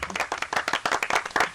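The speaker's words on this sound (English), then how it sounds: "have a round of applause." A brief burst of clapping from a few people in the studio of James O'Brien's radio show greets a caller, quick close handclaps with no talk.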